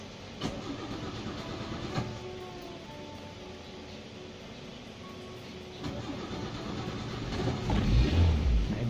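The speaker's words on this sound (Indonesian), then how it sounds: "Jadi kita biarkan dulu untuk hidup, setelah itu kita starter yaitu dengan metode beberapa kali ya" A car's starter cranks in several short bursts during an engine warm-up routine, with brief separate attempts followed by the engine catching and settling into a louder running rumble near the end, with no talking.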